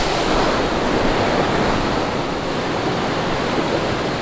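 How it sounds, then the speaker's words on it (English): Waterfall on the grounds of a massive abandoned manor hotel, a loud, continuous rushing roar of falling water that stays steady and close for the whole stretch. "Look at that. It's a waterfall."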